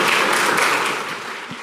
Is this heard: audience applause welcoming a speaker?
yes